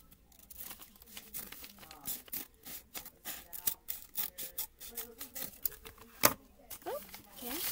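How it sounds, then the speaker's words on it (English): Scissors cut open the crinkly plastic of a Squishmallow blind bag in a series of close, uneven snips and rustles, building into rhythmic crackling before a sharp snap near the end. "Let me get some scissors"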